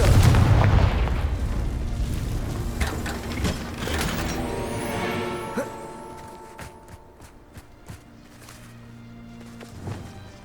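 Confringo fire spell explosions in Hogwarts Legacy open with a heavy, rumbling blast, then a scatter of crackling debris and mechanical clatter that fades over several seconds into quieter game ambience.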